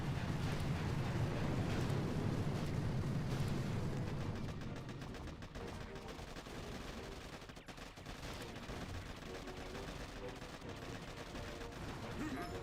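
An artillery barrage in the Boom Beach mobile strategy game: dense booms and rapid blasts pile up loudly for the first few seconds, then ease into scattered, quieter explosions and crackling impacts.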